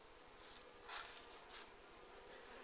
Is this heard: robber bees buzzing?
yes